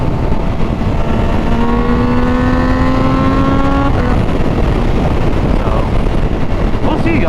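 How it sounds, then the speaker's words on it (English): A Triumph Daytona 660 sport bike fitted with a BT Moto tune revs high in fourth gear, its engine note climbing steadily to near the top of the range, then dropping off; strong wind rush blankets the sound throughout. "I'm in the highest RPMs, where honestly the bike should just be pulling and pulling and pulling."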